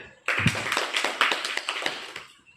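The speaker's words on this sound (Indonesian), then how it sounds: "Boleh kasih tepuk tangan Bu ya?" A small group of school audience members clapping hands together, a brief burst of quick, closely spaced claps heard nearby that starts abruptly and tapers off.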